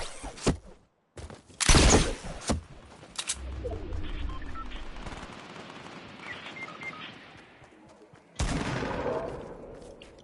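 Sniper fire in a video game, with sharp, loud shot blasts near the start and another near the end, while a quieter rumble and scattered game noises fill the gap between them.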